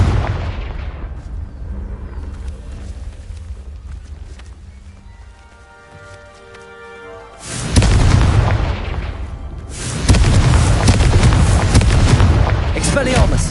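Confringo blasting spells explode in Hogwarts Legacy, giving loud, heavy booming bursts that fill the later part with sustained rumbling blasts over game music and ambient tones.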